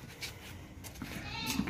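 A healthy, plump dairy goat in milk, recently kidded, lets out a brief bleat near the end amid farmyard background noise and murmured voices, faint to moderate and close.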